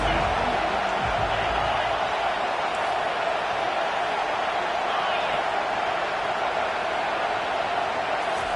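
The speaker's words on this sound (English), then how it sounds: "how nice is it to have the home crowd going absolutely bananas?" A home crowd roars at a Notre Dame versus Florida football game, a dense, steady wash of cheering noise throughout, loud and enveloping, with no distinct voices standing out.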